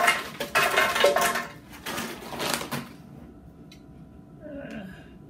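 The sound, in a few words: frozen fruit added to a blender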